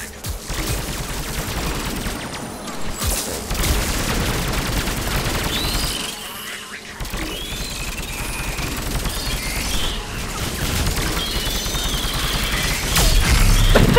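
A Geth turret firing in Mass Effect 3, heard as sustained, loud automatic gunfire with explosive impacts and crashes layered throughout, and a brief lull in the middle before the barrage builds again.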